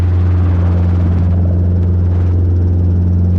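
Robinson R22 helicopter taking off again during a flight lesson, a loud steady drone of engine and rotor with a strong low hum that stays constant and close throughout.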